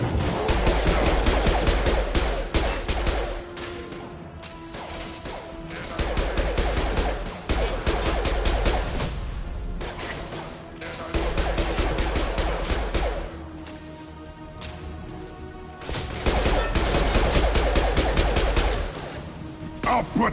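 Sustained rapid squad gunfire in Mass Effect 2 (PS5), loud bursts of automatic weapons in several waves with brief lulls between, voices talking over the firefight.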